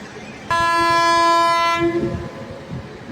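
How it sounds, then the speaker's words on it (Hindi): The 19406 Gandhidham–Palanpur Express sounds its horn at platform 3 of a station: a single loud, sustained blast of just over a second, heard close by over faint platform ambience. "चलिए, हॉकिंग हो गया।"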